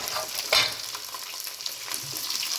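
Garlic and onions sauté in a pan for a Tamil karakuzhambu, with a steady soft sizzle, one louder scrape or stir near the start, and faint movements after it.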